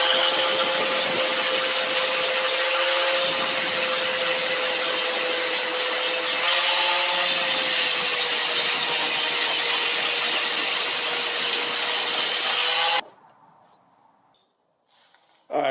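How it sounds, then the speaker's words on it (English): An angle grinder grinds a freshly welded joint flat on a CT200U-EX trike frame, a loud, steady whine that holds for about thirteen seconds and then cuts off abruptly. "We'll grind it flat."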